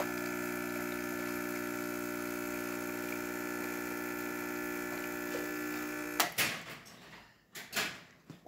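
A Gaggia espresso machine pulls a shot, its pump humming a steady, loud drone with a faint ticking, then cutting off into a few clunks and knocks as the valve is shut.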